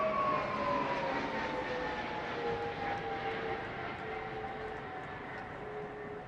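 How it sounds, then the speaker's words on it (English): A large RAF Voyager air-to-air refuelling and transport jet passes overhead during the RAF 100th anniversary flypast, a steady loud engine roar with a slowly falling whine that fades gradually as it moves away. "Our Voyager, operated by 10 and 101 Squadrons based at Royal Air Force Bryce Norton, is primarily used for both air-to-air refuelling and strategic air transport."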